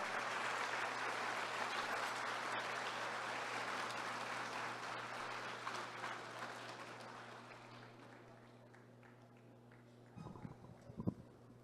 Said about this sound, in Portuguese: Vamos receber com uma salva de palmas esta querida amiga do Rio Grande do Norte.